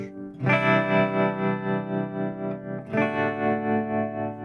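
An electric guitar played through an Oceans 12 dual stereo reverb pedal set to sine mode rings out in two sustained, distorted chords, each swelling with a slow pulsing wobble and a lingering, shimmering tail.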